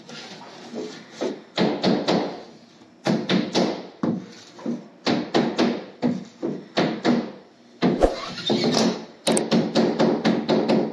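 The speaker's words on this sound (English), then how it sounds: "and when you feel that bump, hammer it down" Repeated hammer blows land in quick bursts of several strikes each, loud and close, with brief pauses between the series, as nails are hammered down along mobile home batten strips.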